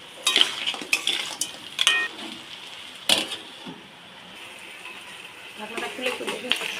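Crab curry masala is stirred and sautéed in a pan, with a utensil clanking and scraping against the metal in irregular bursts over a low, quiet background.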